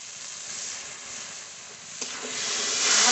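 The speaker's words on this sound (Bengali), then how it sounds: "ভালো করে মশলা কষে নেব।" Masala with salt, turmeric and a splash of water cooks down in oil in a pan, giving a steady broadband hiss that swells louder toward the end.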